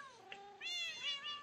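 A cat in Minecraft meows in short rising calls, followed by a second, louder overlapping meow from another cat nearby; several cats are kept in a compact cat house built from whole blocks.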